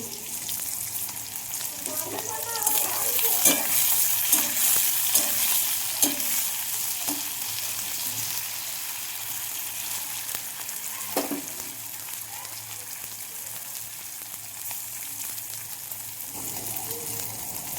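Slit green chillies fry in a pan with a continuous close sizzle, punctuated by stirring scrapes and crackles that settle into a softer hiss toward the end.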